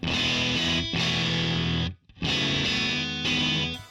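Loud, heavily distorted electric guitar chords through two mixed distortion pedals ring out, cut off briefly by a short silence, then resume with the same rough, fuzzy tone.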